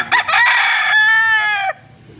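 A young rooster crows once at a poultry market, a loud, close, strained call lasting under two seconds, with faint market noise after it.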